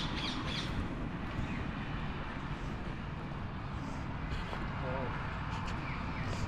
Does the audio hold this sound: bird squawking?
yes